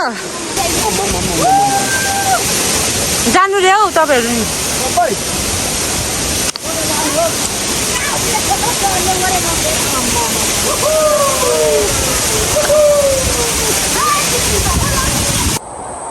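Ghorle waterfall rushes with a loud, steady roar of falling water that runs throughout, while people talk over it.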